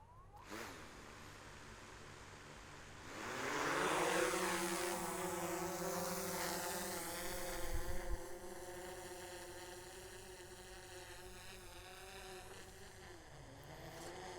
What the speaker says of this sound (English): let's send the drone up